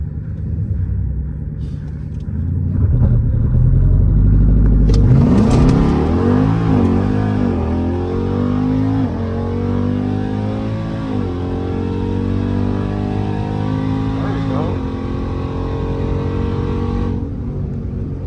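Car launching down a quarter-mile drag strip, engine roaring up loud and close through rising, stepped revs with shifts, holding a strong high-rpm drone for the rest of the run.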